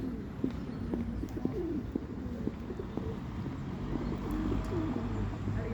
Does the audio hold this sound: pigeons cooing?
yes